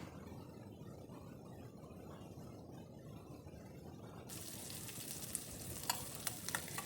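Sliced shallots sautéing in hot oil for a spinach curry, a close, continuous soft sizzle that becomes brighter and crackling partway through, with a few sharp stirring clicks near the end.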